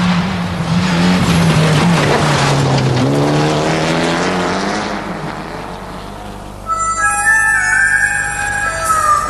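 A four-wheel-drive car accelerating hard on a forest road, engine note rising steadily and loud, with tire noise and a sharp high squeal near the end.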